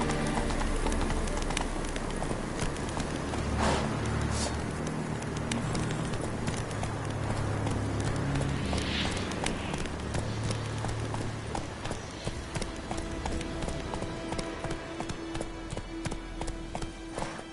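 Roach the horse gallops in The Witcher 3, hooves clip-clopping in a quick steady rhythm close by under a low ambient bed, with faint game sounds around it.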